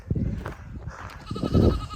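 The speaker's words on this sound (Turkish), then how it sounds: "Yolda keçiler karşıladık arkadaşlar." Goats bleat on a hiking trail along the Lycian Way near Fethiye, between Ovacık and Faralya. A few short, wavering bleats come through nearby over outdoor background noise.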